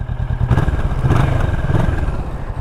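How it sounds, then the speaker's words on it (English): A 2020 Kawasaki Vulcan S with its 649 cc engine idles in a canyon, a deep, loud, pulsing exhaust burble that stays steady and close, with no voices. "That's what the exhaust sounds like"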